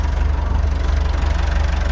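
Tractor engine idling steadily while backing up during snow removal at an off-grid cabin, a close, continuous low rumble with an even pulsing throb throughout.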